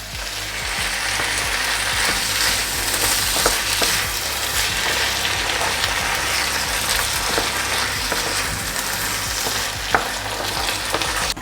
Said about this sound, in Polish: Wszystko wymieszam i przez chwilę podsmażę na patelni